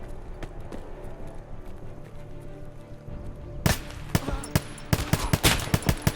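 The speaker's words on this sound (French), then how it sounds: "J'arrive vers les coups de feu." Gunfire in the video game Escape From Tarkov, a rapid series of sharp shots that breaks out after a few seconds of quiet ambience, rattling in bursts near the player.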